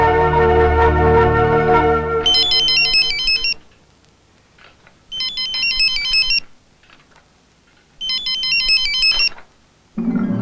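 A mobile phone ringtone sounds in an incoming-call scene from a Kannada film: three loud, repeating electronic melodic bursts separated by short silences, following a few seconds of other background sound at the start.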